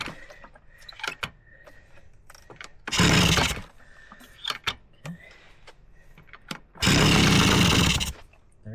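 A Yamaha PW80 dirt bike running on a new piston coughs into life in two loud, rough bursts of a few seconds each, separated by quieter clicks and mechanical rattles, with no talking.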